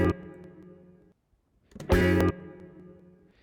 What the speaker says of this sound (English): It's actually quite a long decay time for this reverb.